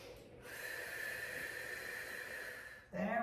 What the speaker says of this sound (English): Just working my way into that with some strong exhales.